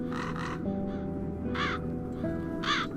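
Crows caw inside the video game The Dark Eye: Chains of Satinav, with a few harsh calls spaced across the moment, some coming in quick pairs, over a low steady ambient drone.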